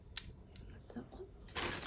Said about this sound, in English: And we just snip the ends.